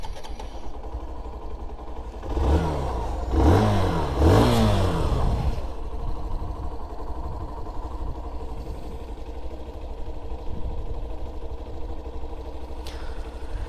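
A 2025 Hero Glamour 125 motorcycle with an OBD2B engine cranks on the starter button, catches with a short rev, then settles into a soft, steady, quiet idle heard up close.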